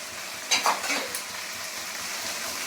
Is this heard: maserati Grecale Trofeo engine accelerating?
no